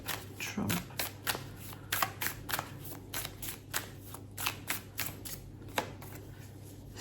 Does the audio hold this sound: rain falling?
no